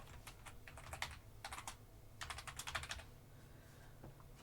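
Bursts of typing on a computer keyboard, several quick clusters of key clicks with short pauses between them, close and fairly quiet over faint background hum.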